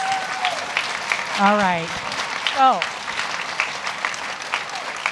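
An audience at a college fashion show applauds steadily all the way through, a continuous wash of clapping with a voice talking briefly over it.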